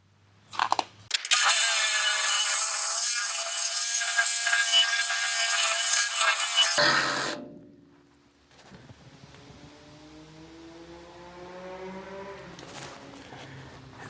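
Cutting along a crack in a skid steer bucket gives a loud, harsh, continuous whine for about six seconds. It then stops abruptly and is followed by a fainter, humming stretch as the tool spins down and runs quieter.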